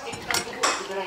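A large red radish, a Red Giant variety, scraped clean of its root hairs with a metal kitchen utensil: two short scraping, clinking bursts close by, with faint dish and cutlery clatter between them.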